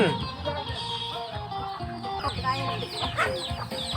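Chickens clucking and calling close by on a rural Thai yard, a busy continuous chatter of several birds with a voice talking underneath.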